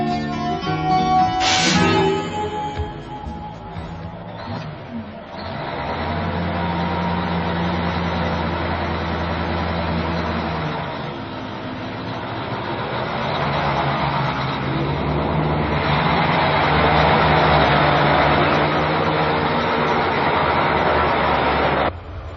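A road train truck's engine rumbles steadily and loudly in inland Australia, a continuous drone with a brief sharp clank early on, no voices.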